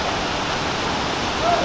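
Salvosa Falls in Araibo, Pantukan, Davao De Oro, pours with a steady, dense rush of water that fills the scene without a break.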